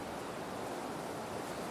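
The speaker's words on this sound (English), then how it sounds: "the waves rush in, then retreat out in a hypnotizing rhythm" Ocean waves rush onto a beach and draw back in a steady, broad wash of surf that fills the whole moment evenly, with no voices.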